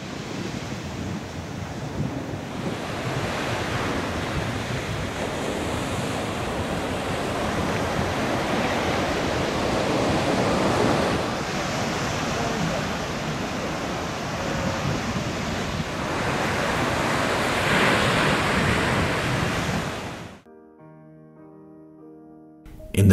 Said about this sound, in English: The smell of seawater and the sound of the waves relaxes the soul.